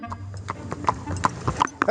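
Steady clip-clop of a horse's hooves pulling an Amish buggy on pavement, crisp rhythmic hoof strikes close by with voices talking over them.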